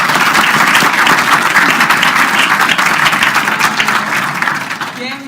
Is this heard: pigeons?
no